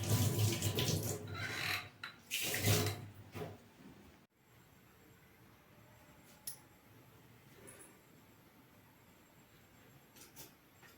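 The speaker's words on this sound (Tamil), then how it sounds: "எண்ணெய் ஊற்றுறோம்." Cooking oil poured into a vada frying pan for veg bonda, two splashy pouring bursts in the first few seconds, then a quiet kitchen with faint ticks.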